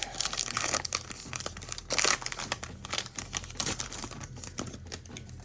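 A trading card pack wrapper is torn and crinkled open close up, bursts of crackling foil and ripping with short pauses between, no talking.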